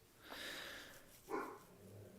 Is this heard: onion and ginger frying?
no